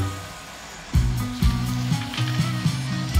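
Pork belly, lamb chops and vegetables sizzle loudly and steadily on a ridged grill pan, with a constant close frying hiss and occasional soft knocks as pieces are moved.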